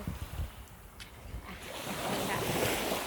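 Sea waves washing onto a beach along a resort shoreline, with soft surf building into a steady louder wash, plus gusts of wind buffeting the microphone.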